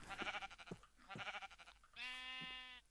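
A Minecraft sheep bleats three times in short, close, clear calls, the last one longer and more tonal than the first two.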